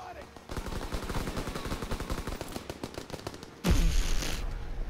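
Rapid bursts of automatic gunfire from Call of Duty WWII multiplayer Domination on the Gibraltar map, loud and repetitive, with a heavy blast near the end.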